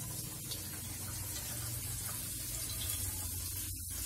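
Water from a tap runs steadily over vegetables being washed, a continuous close hiss and splash with brief knocks of handling throughout.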